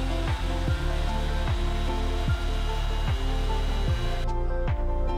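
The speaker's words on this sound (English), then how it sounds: "Sander the aluminum rail for smooth surface." A power sander running steadily against an aluminum rail, a loud continuous whirring drone with a faint rhythmic thump repeating about twice a second, close by and alone.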